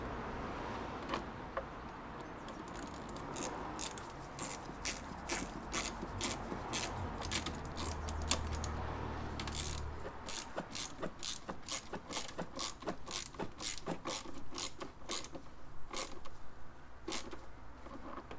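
Ratchet with a T25 Torx bit tightening a bolt on a second-generation Mini Cooper S: a long run of quick, close, evenly spaced metallic clicks, faint overall, with no talking.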